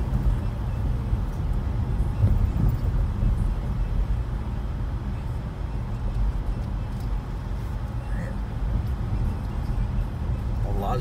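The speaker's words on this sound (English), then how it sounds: "There's a tour bus, and they stopped at a certain house." A tour bus idling on a residential street in Bel Air, a steady low engine rumble with passing traffic noise and faint voices in the background.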